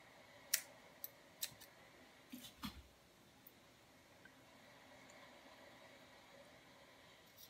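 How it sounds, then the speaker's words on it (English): Scissors cut burlap strips in a quiet room, a few short snips near the start followed by soft rustling of the fabric and then near silence, with no talking. "Now I'm trying to cut in between like you're supposed to on this burlap to help with the raveling."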